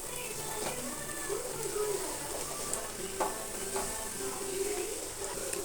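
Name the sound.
frying in a pan before adding cabbage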